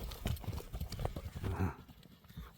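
Hooves of a purebred Kara Bair horse on a farm clop in a quick, uneven patter, fairly faint and close, with faint voices in the background.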